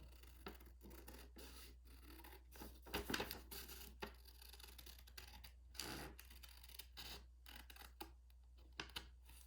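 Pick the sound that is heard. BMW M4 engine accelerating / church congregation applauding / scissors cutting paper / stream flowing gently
scissors cutting paper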